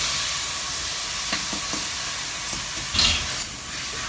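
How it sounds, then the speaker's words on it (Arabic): Spices frying in hot oil in a pot as rice is poured in, a steady loud sizzle throughout with a few soft scraping and clinking touches of the pot. "التوابل بدات تتحمر بقى مع بعضها كده، ريحتها بدات تطلع يعني. هنضيف الرز"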